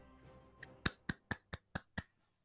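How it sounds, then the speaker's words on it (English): A few gentle, widely spaced hand claps, about seven soft separate slaps in an even rhythm, close and quiet after a faint background. "Did you start gently clapping?"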